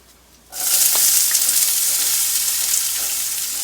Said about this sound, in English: I'm gonna add some onions on this skillet